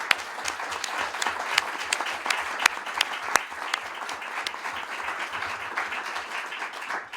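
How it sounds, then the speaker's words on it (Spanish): An audience at a talk on the conflict in Ukraine gives sustained applause for a speaker, a steady wash of many hands clapping with a few sharper claps standing out, with no talking. "os invito a recibir con un aplauso a Dmitry Sokolov"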